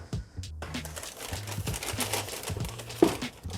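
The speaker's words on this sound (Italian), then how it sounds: "Ora le tiriamo tutte e due fuori dallo scatolo." A pair of DMT cycling shoes is pulled out of a cardboard box with crinkling rustles, scrapes and a few soft thumps from the packaging, close and fairly loud.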